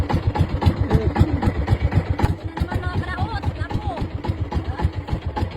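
A fishing boat engine idles with a rapid, regular chugging pulse, close and loud, while people talk over it, until the engine dies.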